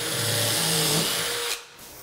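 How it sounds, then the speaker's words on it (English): A power drill bores a pilot hole in flooring, its motor whining loud and steady for about a second and a half before cutting off abruptly, leaving a quieter tail. "So then you can just drill a hole."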